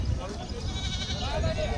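Goats bleat amid the steady crowd din of a rural goat market in Kalamnuri, Hingoli district, with a couple of short wavering calls standing out over constant background talk and bustle.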